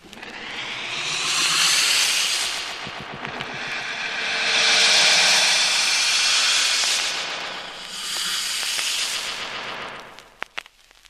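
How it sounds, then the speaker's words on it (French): An atomic rocket engine restarting in a Tintin audio drama, heard as long roaring hissing blasts that swell and fade in three waves, loud and alone, ending with a few sharp clicks. "Remettez en marche le moteur atomique."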